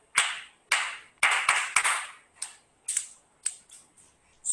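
A group claps in welcome in an indoor session, producing sharp uneven bursts of applause that rise and fall in clusters, with no talk over them.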